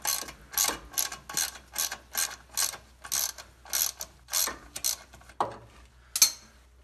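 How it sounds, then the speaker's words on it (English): A hand ratchet works a bolt out of the differential cover on a 1973-87 GMC Jimmy, giving about a dozen rhythmic, close clicking pulls, followed by a couple of sharper metallic clinks at the end. "you can take this last bolt out and remove this differential cover"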